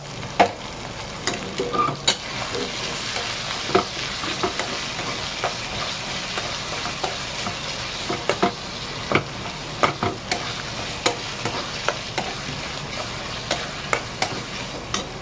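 Tomatoes frying and sizzling in chicken sukha masala, with a steady hiss and regular clicks and scrapes of a stirring spoon throughout, close and without talk.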